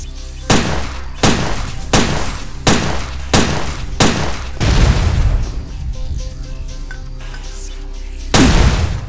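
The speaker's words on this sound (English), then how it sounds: "I can show you the grenades" Grenade explosions in the video game Headhunter: about seven heavy booming blasts go off one after another at a steady pace, each loud and close, with a longer rumbling burst in the middle and a final blast after a pause.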